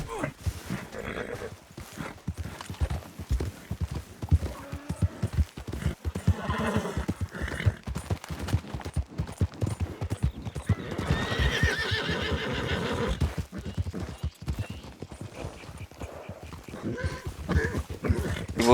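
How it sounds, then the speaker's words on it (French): A horse galloping with rapid, loud clip-clop hoofbeats and several shrill neighs and whinnies, close and busy, with voices and shouts mixed in. "Mon cheval était tout fatigué."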